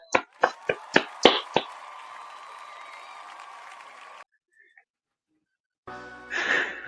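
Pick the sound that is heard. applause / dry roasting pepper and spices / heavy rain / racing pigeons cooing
applause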